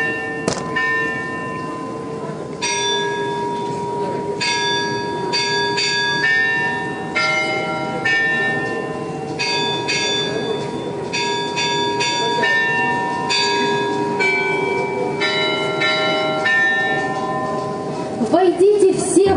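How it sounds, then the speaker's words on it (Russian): A church bell chimes the Easter troparion as a lively, repeating melody of clear, ringing strikes that overlap and sustain. A low steady hum runs beneath the bells. "Колокол вызванивает тропарь."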